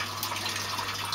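Water siphons from a bucket through a kinked hand-shower pipe in a hydroponic garden. It makes a faint, steady trickle over a low electrical hum.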